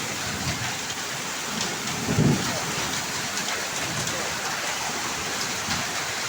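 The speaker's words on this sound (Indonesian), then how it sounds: "Hujan es batu tambah petir." Hailstorm with thunder in Pamulang, dense steady clatter of falling ice and rain with a brief low thunder rumble midway.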